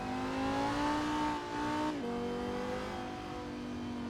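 A Lamborghini Huracan GT3 race car on a circuit, its engine holding a loud, steady high-pitched howl that dips briefly as it shifts at about two seconds, then carries on strongly with no voices.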